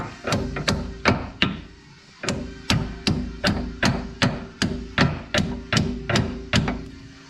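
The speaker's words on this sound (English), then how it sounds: "grab you a little, some type of hammer or something so you can knock it out" Repeated sharp metallic hammer strikes knocking out a bolt while removing Infiniti G35 struts, in a fairly steady rhythm, about a dozen blows with a brief pause early on, close and loud.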